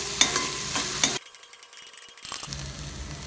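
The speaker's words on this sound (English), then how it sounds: "add little bit of salt to cook the onion quickly and saute the onion for a few minutes" Onion with salt sautéing in a pan, a sharp sizzle with scraping stirs for about a second, then a quieter pause before the frying sizzle returns.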